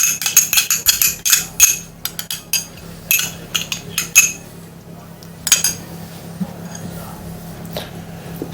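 A spoon clinks and scrapes against a pot while yoghurt is stirred into parsnip, potato and pear soup, a quick rapid run of metallic taps that thins out into scattered knocks.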